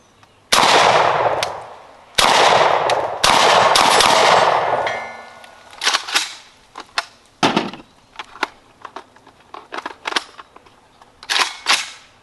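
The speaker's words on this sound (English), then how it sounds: "I'm gonna shoot out into the woods there." A JTS AK12 rifle with a suppressor fires Winchester Red Box rounds out into the woods. A few loud, close shots ring out, some in quick pairs, then a run of sharper, quieter cracks and clicks follows.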